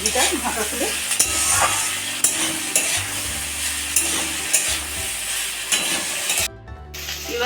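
Mixed winter vegetables being stirred in a pan, a steady close sizzle broken by regular scraping strokes of a spatula, with a short quiet gap near the end.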